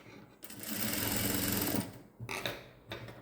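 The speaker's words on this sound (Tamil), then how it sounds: "ஷோல்டர், கழுத்து 2 இடத்துலையும் படிமான தையல் போட்டு நம்ம எடுக்க போகிறோம்" A sewing machine runs a steady seam along the shoulder and neck of a baby gown, with a close, dense rattle for over a second. Short quieter bursts of stitching follow, separated by brief stops.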